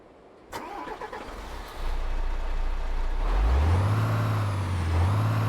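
A video game truck engine in Euro Truck Simulator 2 cranks and turns over, then settles into a deep, steady idle rumble with a rising whine; no voices.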